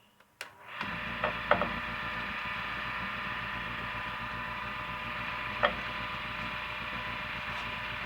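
Wood lathe spinning a junk 2x4 for rough turning: a steady mechanical drone with a few short knocks and scraping bursts near the start and midway, no talking.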